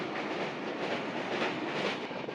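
The Kanchankanya Express rolls steadily along the rails near Siliguri Junction, a continuous close rumble with faint rhythmic clatter and no voices.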